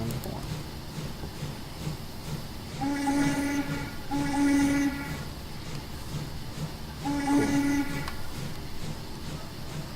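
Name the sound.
steam locomotive horn from a video game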